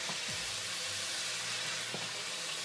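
Chopped vegetables sauté in a pot as the base for clam chowder, giving off a faint, steady sizzling hiss with a couple of soft stirring scrapes.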